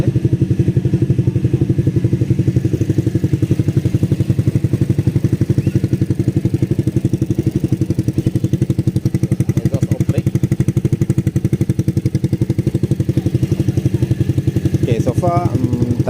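A WMoto ES250i motorcycle engine bored up to 278cc runs steadily after a cold start, a loud, close, even idle with a constant rapid firing pulse and a faint mechanical rattle.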